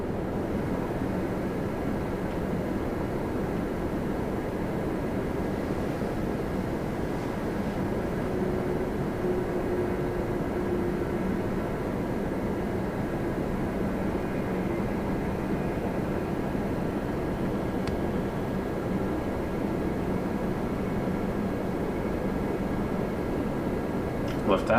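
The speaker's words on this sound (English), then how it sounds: "Lufthansa on its own power now. Taxiing across the ramp." A Lufthansa airliner taxis across the ramp at Toronto Pearson under its own power, producing a steady broadband engine rumble and whine that lasts throughout, with a voice speaking over it.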